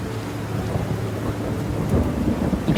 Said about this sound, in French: Brusquement, une tempête fait rage. Il pleut tellement qu'il devient difficile de voir.